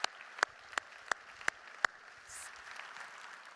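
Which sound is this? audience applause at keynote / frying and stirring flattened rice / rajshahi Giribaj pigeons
audience applause at keynote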